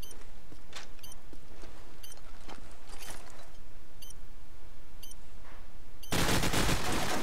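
Rapid submachine gun bursts in a competitive online shooter match on the map Crash, sharp repeated cracks scattered across the clip with a dense, louder burst of fire at the end.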